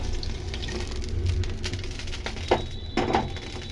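Fried pointed gourd (potol) pieces go into simmering dal for Odisha dalma, a soft continuous sizzle and bubbling with a couple of louder splashy drops near the end.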